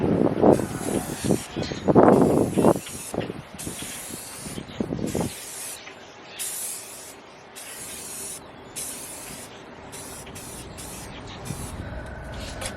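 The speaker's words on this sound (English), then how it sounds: "I'm just gonna spray some primer on there, see what happens." Someone talks briefly, then a spray can of primer hisses onto a rusty BMW car panel in a long steady burst, followed by shorter on-and-off sprays with pauses between them.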